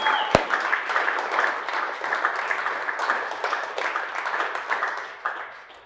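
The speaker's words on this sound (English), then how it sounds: "Another round of applause." Applause from an office team gathering, a steady burst of many hands clapping that stays dense for several seconds after one sharp clap, then tapers off toward the end.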